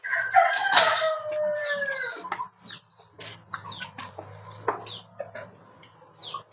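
Desi roosters crow loudly on a poultry farm, one long call up close early on, followed by scattered shorter crows and clucks from birds farther off.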